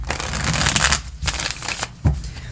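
Tarot cards being shuffled by hand, a close, loud riffling and rustling in bursts with brief pauses between, no voice.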